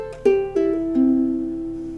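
Ukulele playing a short pull-off lick, a few plucked notes stepping downward with soft attacks, the last note left ringing, close and alone.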